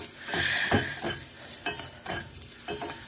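Sliced mushrooms cook in a pan for an omelette, with a soft steady sizzle broken by several scraping stirs of a utensil at a close, moderate level.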